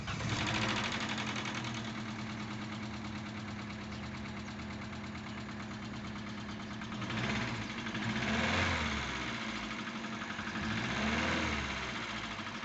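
A 2005 Vauxhall Astra H starts and settles into idle with a slightly tappety engine, giving a steady, close mechanical ticking hum that rises briefly a few times.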